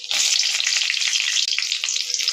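Dried red chillies hit hot oil in a pan where mustard seeds have already popped, with urad dal, giving a loud, close, continuous sizzling hiss with faint crackles and a brief stirring clatter.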